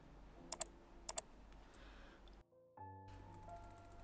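Close computer keyboard and mouse clicks while cells are deleted in a Microsoft Excel 2016 spreadsheet: a few sharp paired clicks early, then quieter tapping and a brief dip before a faint steady hum, with no talking.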